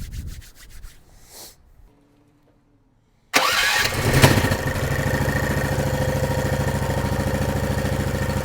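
A mini jeep's 440cc Duromax engine cranking and catching after a short silence, then settling into a steady, even running hum that stays alone at moderate loudness.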